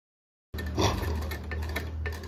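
Sewing machine running steadily while stitching the neckband of a full-sleeve blouse, a continuous close mechanical whir with a light rhythmic ticking that starts abruptly after half a second of silence.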